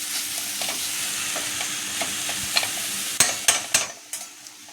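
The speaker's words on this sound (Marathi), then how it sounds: "आपण आता हे चांगलं परतून घ्यायचं आहे. थोडा गूळ मेल्ट झाला पाहिजे." A jaggery and coconut modak filling is sautéed in a pan, a steady sizzle under stirring, then several distinct scraping strokes of the spoon near the end, no voices.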